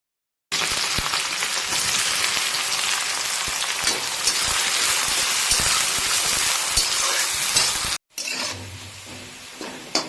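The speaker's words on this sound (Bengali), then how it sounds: "আর এগুলো এই আলু ভাজার তেলেই আমরা ভালো করে ভেজে এটাকে বেরেস্তা তৈরি করে নেব" Sliced onions fry for biryani birista in oil already used to fry potatoes, giving a loud, steady, crackling sizzle that runs for several seconds before cutting off abruptly, with a quieter pan sound after.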